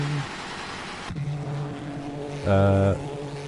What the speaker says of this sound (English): I'm so sorry how horrible my car sounds.